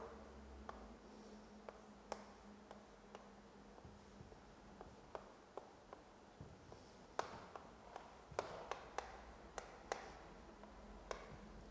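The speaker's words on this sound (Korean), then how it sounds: "여기 한번 써볼게요" Chalk or marker taps and scrapes on a board during a law lecture, with faint, irregular clicks and strokes over a quiet room hum.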